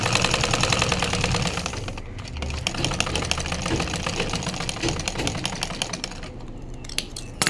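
A sewing machine runs in rapid bursts while stitching a shirt band collar, a fast mechanical chatter of needle strokes with brief pauses, close and steady with no voices.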